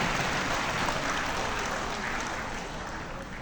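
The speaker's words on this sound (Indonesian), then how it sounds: "tepuk tangan dulu untuk saya" Graduates applauding at a midwifery and nursing professional graduation ceremony in Bali, a steady, diffuse wash of clapping from a large crowd, heard alone throughout.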